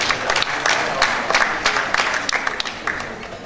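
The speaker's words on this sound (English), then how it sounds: "let's give ourselves a hand of applause" Audience applause at an architects' colloquium, a packed hall clapping steadily with individual claps popping out, fairly close and loud, with a bit of crowd noise underneath.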